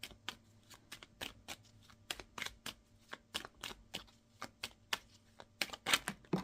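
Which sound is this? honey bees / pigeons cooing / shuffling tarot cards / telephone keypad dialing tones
shuffling tarot cards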